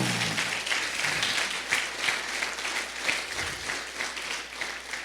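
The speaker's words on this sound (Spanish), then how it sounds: "Dale un aplauso al Señor." A church congregation applauds steadily, a dense wash of many hands clapping that holds at a moderate level throughout.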